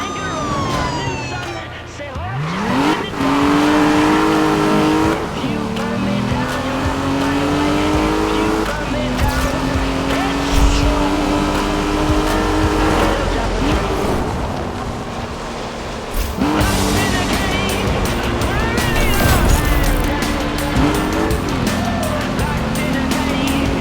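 Engines roar and tires squeal in a Need for Speed Rivals police pursuit, cars revving and shifting pitch continuously with loud rising and falling engine notes, while a French-speaking police radio voice talks over the action.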